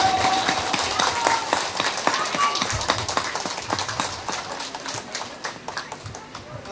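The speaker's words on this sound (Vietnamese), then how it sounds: "tôi đề nghị tất cả chúng ta nhiệt nghiệp vỗ tay" Dense, steady clapping from a gathering of the Nguyễn Văn family clan at a 2022 lineage meeting in Quỳnh Ngọc, Quỳnh Phụ, continuing for several seconds with faint voices mixed in.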